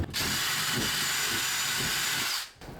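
A power drill runs steadily for about two and a half seconds, its bit wobbled in a hole while installing Rubbermaid closet shelf hardware in a 1980s mobile home, then winds down.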